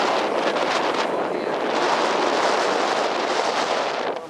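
Strong wind on a New England beach roars steadily and loudly across the microphone, a dense continuous rush with no pauses.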